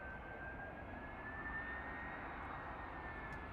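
EasyJet Airbus A319 jet approaching to land at Bristol Airport in the evening: a faint, distant, steady roar with a thin high whine held throughout.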